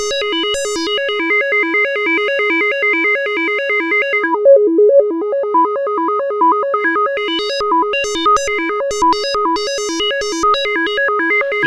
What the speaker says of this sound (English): You can hear that we're getting random filter settings from the random, but which is time synced to the actual notes.